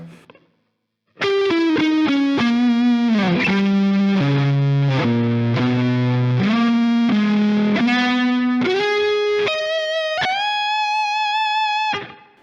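A distorted electric guitar plays a slow lick of sustained, bending notes, one after another. It rings out alone and loud, with no talking.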